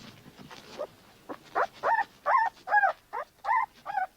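A young puppy whimpers nearby in a series of short, high, wavering cries that start faint and grow louder and more regular.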